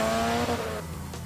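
Honda 3.5 V6 engine in a sedan revs briefly, a short loud burst of engine roar that eases off within about a second, with no talk over it.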